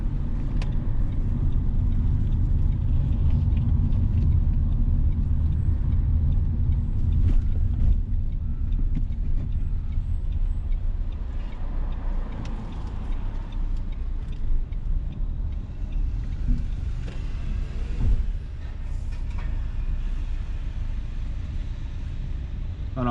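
A car on a driving test rolls along with a continuous low road and engine rumble from inside the cabin, steady throughout, with a few brief faint voices.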